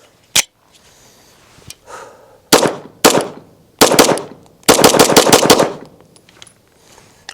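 Loud, close pistol shots from a Staccato 2011 with Ignis ports: a few single shots, then clustered pairs and a rapid string of about eight sharp cracks near the end, with brief quiet between groups.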